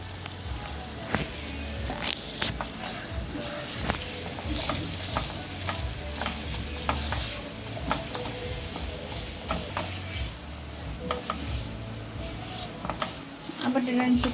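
Potatoes fry for a dry potato bhaji with cumin in a pan, giving a steady close sizzle with frequent scraping stirs, while someone talks over the cooking.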